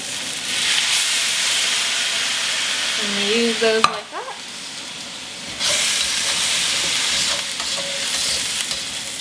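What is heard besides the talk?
vegetables steaming and sizzling in a pan with morel broth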